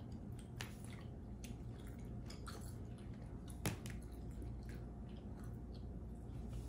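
Someone chews 1960s bubble gum close up, with soft, wet, sticky squishing and smacking sounds coming irregularly over quiet room tone.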